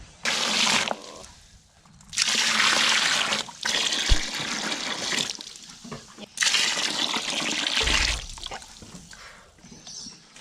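Water gushing into a horse's feed bucket to soak maxi soy and copra, coming in several long loud bursts of pouring and splashing separated by short pauses.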